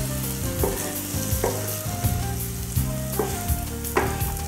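Chana dal with black pepper and turmeric is stirred in a hot pan, producing a loud sizzle broken by repeated scraping strokes of a spoon on metal at an uneven pace, with no voices.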